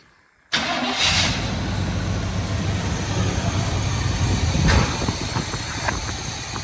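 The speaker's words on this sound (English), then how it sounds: "Just reach into the window and fire it up." A 1971 Chevrolet Suburban with its all-original engine and factory exhaust cranks and fires up, then settles into a steady, close, loud idle that carries on without a break.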